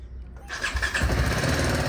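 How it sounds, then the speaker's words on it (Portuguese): A BMW 310 GS motorcycle, engine still warm and in neutral, cranks and fires up, catching quickly into a steady close rumble. "Liguei a moto, certo?"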